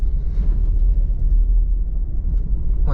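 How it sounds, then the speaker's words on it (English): A small hybrid car's engine rumbles low and steady as it drives over a sandy road, a close, continuous grinding roar with no talking. "this little car is plowing the road"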